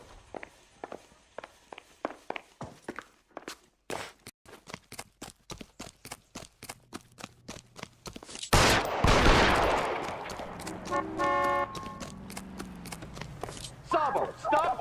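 Gunfire in the crime video game L.A. Noire: a loud burst of shots around the nine-second mark follows a long run of regular footsteps, with more sharp reports and game sound trailing after it.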